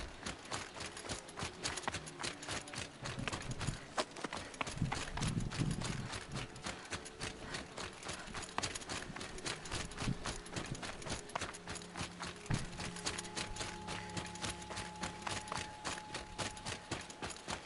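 Rapid, steady hoofbeats gallop in the video game Horizon Zero Dawn, with even clip-clop thuds over game ambience throughout.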